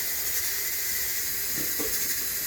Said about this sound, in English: Oh, these are all boiling.